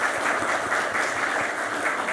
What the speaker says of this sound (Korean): 이렇게 박수를 한번 쳐주시고 환영해 주시면 감사하겠습니다